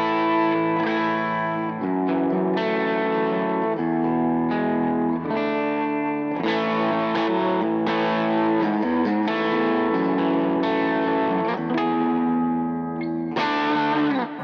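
Cort G290 FAT II electric guitar played through its bridge humbucker on a crunchy, lightly distorted amp setting: chords and riffs ring out loud and continuously with sustained overdriven tone and some chorus-like shimmer, no talking.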